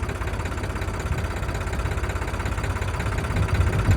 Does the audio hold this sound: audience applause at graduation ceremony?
no